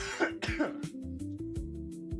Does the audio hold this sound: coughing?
yes